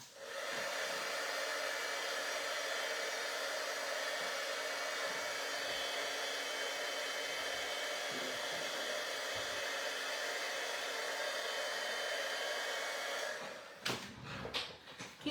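Heat tool blowing hot air over gingerbread embossing, a steady loud whooshing whine held close for most of the time, then cut off near the end with a few clattering knocks.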